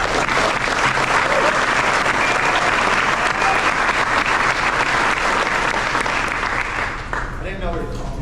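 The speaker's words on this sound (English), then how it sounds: "So round of applause for Coach Hoff." A loud, dense round of applause from a crowd at a youth sports team's end-of-season awards, sustained close clapping that slightly dips and thins near the end, with voices mixed in.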